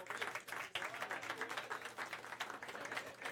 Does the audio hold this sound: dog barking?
no